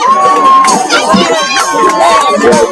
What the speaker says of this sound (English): Dude getting the crowd going here.